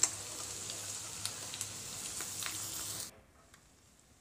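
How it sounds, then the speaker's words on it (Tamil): Soft, steady sizzling of chopped onion and cabbage frying in a pan, with scattered light pops, stopping abruptly near the end. "சேர்த்துட்டு இது ரெண்டையும் நல்லா வதக்கிக்கலாம்."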